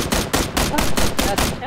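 Rapid automatic gunfire in PUBG, a dense stream of loud, close shots in steady repeated bursts lasting the whole moment.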